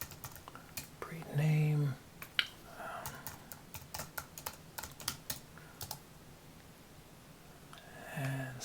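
Typing on a computer keyboard while building a SQL database table, a run of close, irregular key clicks with brief pauses and a short voiced murmur, soft speech heard in places.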